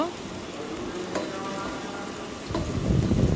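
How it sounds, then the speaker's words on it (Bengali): Onions stirred and frying in a pan for a home-style beef and potato curry, with a steady sizzle and occasional scraping stirs, louder toward the end. "তো পেঁয়াজগুলো ভালোভাবে নেড়ে নিব।"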